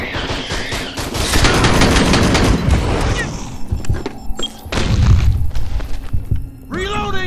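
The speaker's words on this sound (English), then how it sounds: "Acid explosion." Loud video game explosions, including an acid explosion, and rapid gunfire burst in a dense, chaotic barrage, with shouting voices mixed in and a sharp warbling effect at the end.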